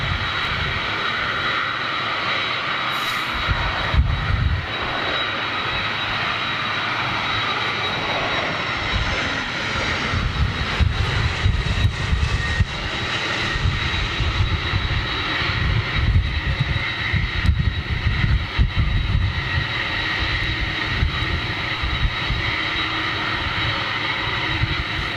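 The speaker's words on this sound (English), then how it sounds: "Okay, 757 inbound." An inbound Boeing 757 jet airliner makes a steady, loud engine roar and rumble that holds for the whole stretch, with no talking over it.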